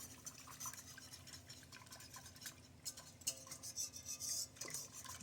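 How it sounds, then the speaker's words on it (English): A whisk scrapes and stirs flour into broccoli cheese soup in a pot, with a steady run of close, soft metallic swishes and light clinks, heard alone. "you want to get all that flour whisked in"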